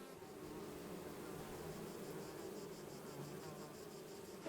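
Bees buzz in a small meadow kept by a beekeeper on Samothraki, a faint, steady insect drone with soft wing pulses layered over quiet outdoor ambience.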